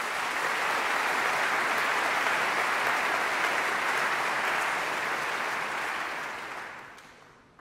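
Sustained applause fills a concert hall at a charity opera gala for Ukraine; a large audience claps in a thick, even roar that holds strong, then fades away over the final second or so.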